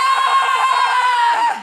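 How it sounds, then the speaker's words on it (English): Two people let out a long, loud, sustained scream together indoors, holding a high pitch before it trails off at the end. "Let's scream."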